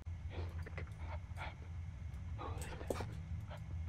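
Dog whimpering and low growling inside the horror game Penumbra Overture, fairly faint and intermittent over a steady low rumble of game ambience.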